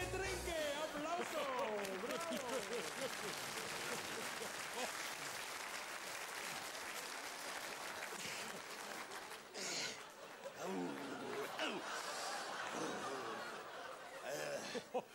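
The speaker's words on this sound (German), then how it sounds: "Applaus." A live comedy audience breaks into loud, continuous applause mixed with scattered laughter and chatter, dense clapping that carries on for several seconds.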